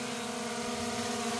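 A small camera drone lifts off, its propellers giving a steady, close, high-pitched whine with layered tonal hum throughout, and no voices.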